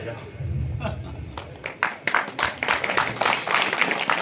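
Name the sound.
audience applause at a poetry event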